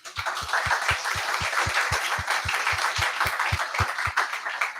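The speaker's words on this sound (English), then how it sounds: "A big round of applause for our volunteers." Audience at a product management meetup in Auckland applauds its volunteers, a steady burst of room-filling clapping that carries on for several seconds, loud and close, with low thumps from a few nearby hands standing out in a regular rhythm.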